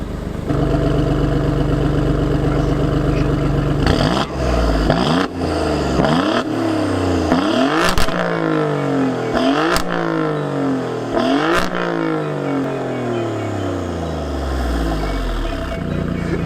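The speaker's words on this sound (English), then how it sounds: "show you what it sounds like in race mode" Alfa Romeo Giulia Quadrifoglio in race mode, its engine revving loud and close in a string of sharp blips and climbing rises with sudden cuts between them, with no talking.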